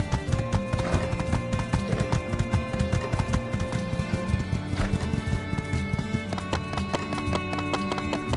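Hooves clip-clop in a fast, steady galloping rhythm as a horse runs in the video game My Time at Sandrock, loud and close throughout, with a brief whinny partway through.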